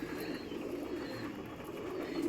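A racing pigeon coos softly and continuously, a low, faint, steady burbling with no talk over it.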